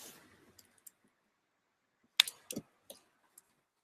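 An object lying on a computer keyboard presses the keys, giving a few sparse, quiet clicks and taps spread out over a few seconds in a near-silent room.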